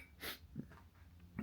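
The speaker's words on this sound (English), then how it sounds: "Hang on, I'm going to cough." A man's single sharp cough or sneeze-like burst outdoors, close and short, followed by faint breathing and a small snort.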